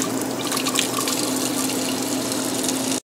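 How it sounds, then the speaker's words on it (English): A wooden spurtle is rinsed under a running kitchen tap. Water gushes and splashes in a loud, continuous close-up stream that cuts off sharply at the end. "it's very easy to wash up the residue"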